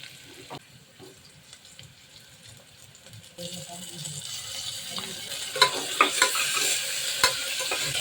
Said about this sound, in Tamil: நம்ம போட்டு இஞ்சி பூண்டு பேஸ்ட்டும் வதங்கிடுச்சு நல்லா